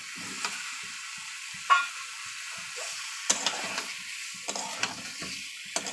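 Eggs frying and being stirred in plenty of oil, with a steady sizzle and scattered clicks and scrapes of a utensil against the pan, close and alone.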